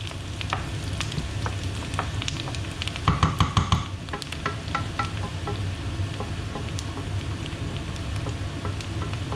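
Onions frying in oil in a pan, a continuous close crackling sizzle with scattered sharp pops and a brief burst of louder spattering near the middle, no voices heard.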